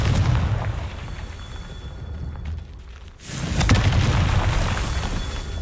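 Fiery Confringo spell blasts in Hogwarts Legacy, two deep booming explosions with crackling bursts, the first fading into a quiet lull before a second heavy blast erupts and rumbles on loudly.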